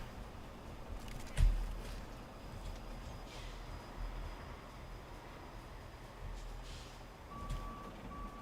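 A truck in RoadCraft rumbling low and steady as it moves forward, with a reversing beep repeating near the end and a soft thump early on.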